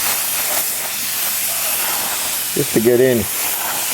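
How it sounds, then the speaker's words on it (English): A touch-up spray gun hisses steadily as it sprays black acrylic paint around a Ford XC Fairmont 351 under restoration, with someone speaking briefly near the end. "So I'm just going around with this touch-up gun. This is just black acrylic,"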